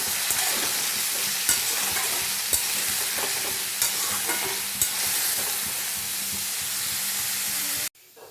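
Cut potato and papaya frying in a pan with a steady sizzle and hiss, while a utensil stirs and taps against the pan about once a second, close by. The sound stops abruptly near the end.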